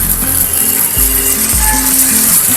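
Banana slices frying in oil in a pan, a steady bright hiss of sizzling throughout, with a few low knocks and spaced tonal clicks from cookware. No talking.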